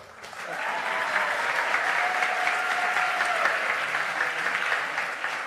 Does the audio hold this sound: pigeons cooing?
no